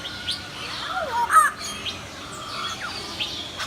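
At Chester Zoo, a bird mimicking human speech gives a few short, chirpy, voice-like calls close by, with quieter ambient noise between them.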